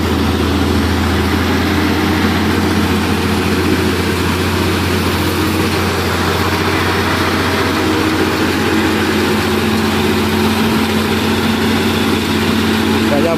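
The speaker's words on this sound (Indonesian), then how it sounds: "Mesinnya goyang-goyang." A 220 PS truck engine idling and shaking, a loud, steady low diesel rumble with a constant drone that holds throughout.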